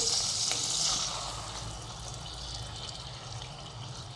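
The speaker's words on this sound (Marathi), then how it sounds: "आता यात आपण पनीर टिक्का मसाल्याची स्लरी टाकून घेणार आहोत, दूध मिसळलेली," A milk-based paneer tikka masala slurry poured into tomato puree cooking in oil: a loud hiss and splatter at the start that settles into a steadier, quieter sizzle and bubbling, with no talk.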